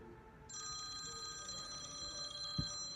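A telephone rings for an incoming call on a call-in radio show, one sustained bright electronic ring tone over quiet studio background, close and fairly faint.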